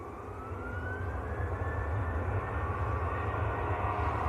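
A Jet2 airliner at Manchester Airport roars steadily in the distance, the broad engine noise slowly building with a rising whine on top and no speech.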